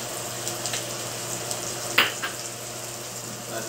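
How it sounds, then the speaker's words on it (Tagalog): Pork and other ingredients for laing, a taro leaf dish, sizzle steadily in a pan as they fry until crisp, with a soft constant hiss and one sharp clink of a utensil partway through. "So, palulutong natin ng konti itong pork at mga sungkap para pag maluto talaga siya."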